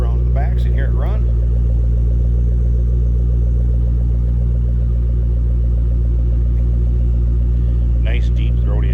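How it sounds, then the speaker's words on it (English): A 2007 Ford Mustang Shelby GT500 engine idles with a deep, rumbling exhaust note, steady and close, while a person talks briefly at the start and end. "Nice deep throaty exhaust."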